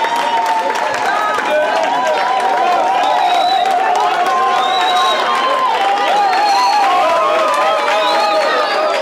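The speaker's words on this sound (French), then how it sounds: "sous vos applaudissements" Audience at an independence anniversary dinner applauding steadily, with cheering and murmuring voices mixed through the dense, continuous clapping.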